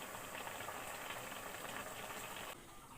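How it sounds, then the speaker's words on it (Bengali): Carrot pulao cooked with sugar, raisins and ghee bubbles at a rolling boil in a pot, a steady close hiss and gurgle that drops slightly in level near the end. "এই তো পোলাওটা সুন্দর বলক এসে গেছে"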